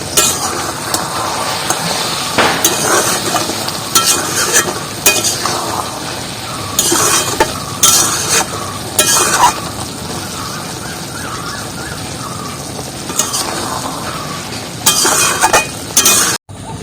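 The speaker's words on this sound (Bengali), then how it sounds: "একটু মশলাটা একটু ঘুরে নেব" A spoon stirs masala for a fish curry of lote fish cooked with amra in a pan, scraping and clinking in irregular bursts over a steady sizzle.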